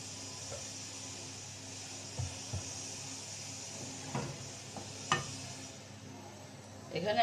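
Mustard oil heats in a hot pan before a mustard hilsa fish curry is cooked, giving a soft, steady sizzle with a few faint clicks and utensil knocks near the end.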